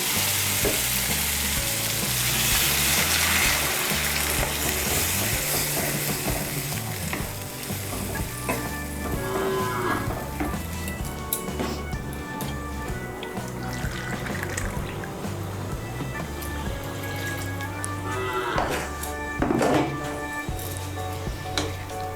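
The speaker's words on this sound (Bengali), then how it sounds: "আমি এর মধ্যে 2 কাপ গরম জল দিচ্ছি।" Hot water goes into a sizzling spiced potato curry, a loud continuous frying hiss with stirring and bubbling that churns on steadily, without any voices.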